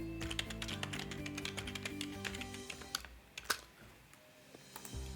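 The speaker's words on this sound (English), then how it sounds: "I'm going to type my password." Rapid keystrokes on a computer keyboard as a password is entered, a steady run of clicky taps close up with a faint low hum beneath and a brief pause near the end.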